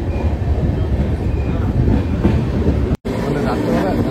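A passenger train rumbles steadily at close range with dense low-end roar from wheels and carriage, briefly cut by a sharp dropout near the end, with voices faintly mixed in.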